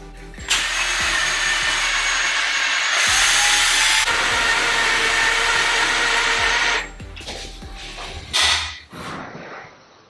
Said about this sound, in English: what if I just drilled the hole in this first?